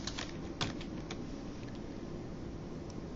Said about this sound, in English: In this case, I'll type in a command line